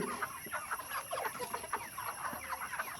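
Roosters cluck and chatter continuously, a dense flock on a poultry farm at moderate distance over a faint steady background hum.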